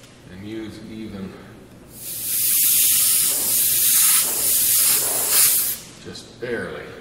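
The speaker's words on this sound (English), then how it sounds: "just barely spray on that one" An airbrush sprays paint onto an object in a steady, close hiss lasting several seconds, set down at a lighter setting, with a quiet voice before and after the burst.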